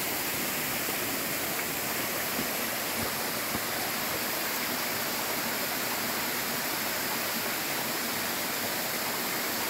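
Steady, full roar of the Kedung Kepyur multi-tiered waterfall on Mount Lorokan, loud and continuous throughout with no pauses or voices.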